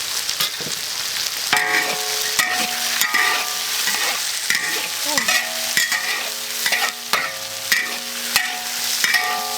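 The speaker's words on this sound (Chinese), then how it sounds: "再炒一下，这个豆腐干要多炒一下才好吃啊。" Beef and dried tofu are stir-fried in a wok, with a busy sizzle and repeated scraping, clanking strokes of the spatula in an uneven rhythm, close and alone without talk.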